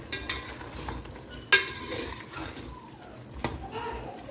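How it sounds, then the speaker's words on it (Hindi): Stirring green chicken pulao in a pot, with soft scraping strokes and a few sharper utensil knocks against the pot, moderately close over a faint sizzle. "अच्छे से इसे मिक्स करें।"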